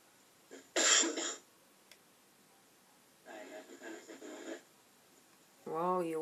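A person coughs sharply right into a microphone, one loud close burst, followed later by a softer stretch of noise and then voices talking.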